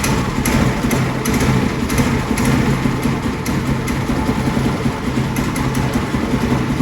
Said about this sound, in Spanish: Arrancamos la moto, contacto. Arrancamos la moto.